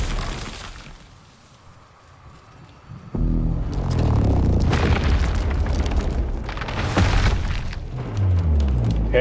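A radio tower blows up in a post-apocalyptic open-world co-op survival video game. A quiet stretch gives way to a loud boom with crashing and rumbling debris that keeps going for several seconds.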